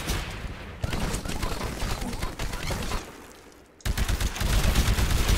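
Rapid gunfire from the video game Titanfall rattles in dense bursts, loud and close, with a short lull before the shooting resumes even harder.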